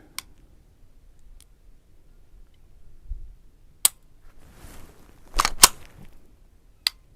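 The stock trigger of a Canik TP9DA 9mm pistol is pulled and reset, giving a few sharp, crisp metallic clicks spaced apart, close and isolated against near silence.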